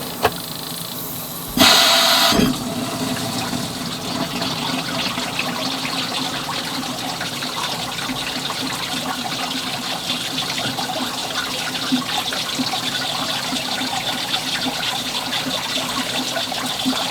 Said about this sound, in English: I can hear leaks.